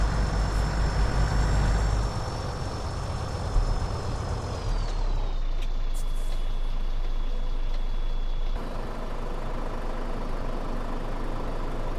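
A Scania truck in Euro Truck Simulator 2 rumbles along with a steady engine drone, a high whine gliding downward midway, and a brief hiss of air; no talking.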